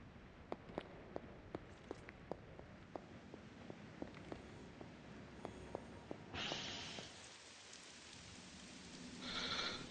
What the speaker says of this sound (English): Ah, the cool rain.